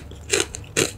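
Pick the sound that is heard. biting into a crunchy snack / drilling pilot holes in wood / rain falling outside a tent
biting into a crunchy snack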